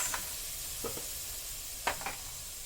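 Guar beans and French beans for Sindhi curry sizzle in a pan over a low flame, a steady hiss broken by a few short scraping stirs.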